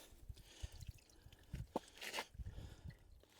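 Water drains from an emptied household water heater into a garden, faint uneven drips and wet splashes close by, sputtering irregularly rather than flowing steadily.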